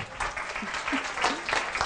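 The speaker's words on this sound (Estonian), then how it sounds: "Leelo, meil on teile imeline roosiõis, mille me tahaks teile edastada aplausiga." Applause from an audience at a school event, a spread of handclaps that stays steady and fairly close for a couple of seconds.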